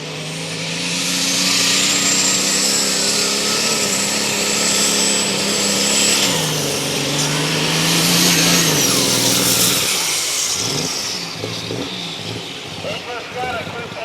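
Loud, sustained engine roar of a pulling tractor at a truck and tractor pull, rising and falling in pitch as it labors, with a voice talking over it.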